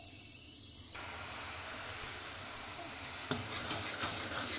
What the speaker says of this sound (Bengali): এবারে একটু গুড় দেবো